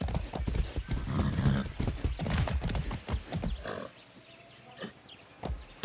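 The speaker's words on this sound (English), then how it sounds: "Be nice, horse." Horse hooves clip-clop at a lively pace in the Far Cry 6 video game, close and loud, with a brief whinny amid the steps; the hoofbeats thin out toward the end.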